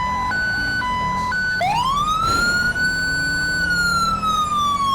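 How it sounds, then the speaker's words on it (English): A police car siren in the GTA5 game with the LSPDFR mod, during a Pacific Bank heist response, wails loud and close, stepping through a yelp-like pattern and then into a long sweeping wail that holds steady to the end. "Doesn't matter how many times I turn that siren down, it's never low enough."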